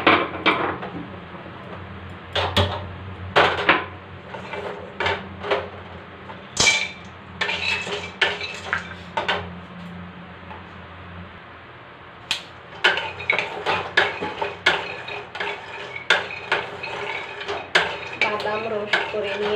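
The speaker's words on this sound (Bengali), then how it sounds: "বাদাম রোস্ট করে নেব," Peanuts being dry roasted in a pan, with bursts of rattling, scraping stirs and clinks of a spatula against metal, separated by quieter pauses, close and moderately loud.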